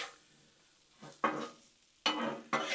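Peppers, onions and potatoes sizzle on a Blackstone griddle, with a quiet steady sizzle broken by a few louder bursts of scraping and stirring near at hand.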